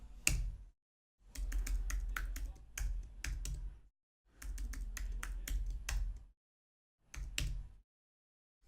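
Bursts of rapid keystrokes on a computer keyboard while a new root password is entered, close and crisp, coming in several short runs separated by silent pauses.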